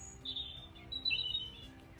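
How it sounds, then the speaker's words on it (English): A bird outside a window gives a few faint, thin chirps spread across two seconds over quiet indoor background hiss. "We have a bird"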